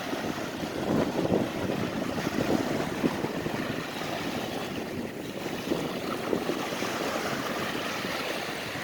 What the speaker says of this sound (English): Look at that ocean, guys.